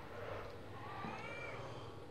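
A cat meows in the horror game Erie, standing out faintly against a steady, low ambient drone that lasts throughout.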